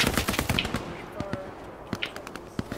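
Bursts of automatic gunfire in the World War II shooter Hell Let Loose, rapid sharp cracks at mid distance over a busy battlefield, with a player talking over the shots.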